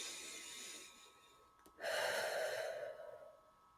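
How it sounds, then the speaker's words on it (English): Slow deep breathing during a guided visualization, a drawn-out inhale followed by a fuller, louder exhale, close to the microphone with nothing else heard. "I want you to breathe. I want you to breathe with me."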